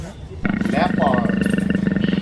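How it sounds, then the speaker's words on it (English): A leopard gives a loud, sustained rasping roar with a pulsing, sawing rhythm, close and filling the whole moment. "Leopard."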